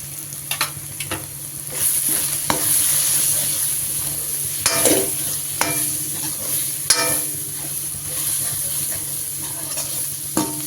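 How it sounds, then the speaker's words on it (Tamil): Chilli powder sizzles and fries in hot oil for noodles while a utensil stirs, scraping the pan with a few sharper knocks over a steady hiss. "லைட்டாக அந்த எண்ணெயில் ஃப்ரை பண்ணிவிட்டு"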